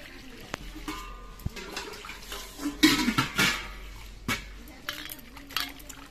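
Ginger is rubbed and washed by hand in water, giving close splashing, sloshing and clinking bursts, loudest near the middle, with faint background noise.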